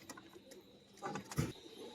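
A female pigeon coos softly at close range, a brief low murmuring call rising amid faint background clatter.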